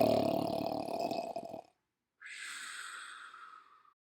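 A voice imitating a snoring bear: a long, rough, rumbling snore on the in-breath, a brief pause, then a softer breathy whistle on the out-breath, close and alone.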